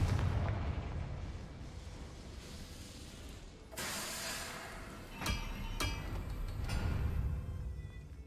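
Confringo fire spell explosions in the Hogwarts Legacy video game, with a rumbling blast followed by several sharp bursts and booms over a dense, noisy combat background.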